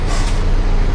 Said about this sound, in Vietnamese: thắng phanh thì trợ lực hơi, rất là an toàn cho cái xe nha các bạn